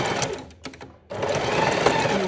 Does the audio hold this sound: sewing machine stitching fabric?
yes